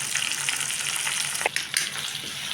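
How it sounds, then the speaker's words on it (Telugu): Onions, green chillies and curry leaves with a pinch of turmeric sizzle steadily in hot oil while cooking bitter gourd pulusu, with a few sharp spatula scrapes and clinks near the middle, no talk. "ఇప్పుడు ఉల్లిపాయలు పచ్చిమిరపకాయలు కొంచెం వేగాలి"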